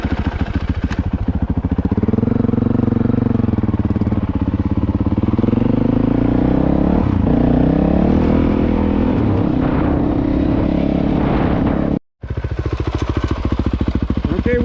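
A Honda CRF450L dual sport motorcycle ridden on a backroad ride between Priest Lake and Sullivan Lake, its engine droning loud and close with rising and falling revs and wind buffeting, briefly cutting out near the end.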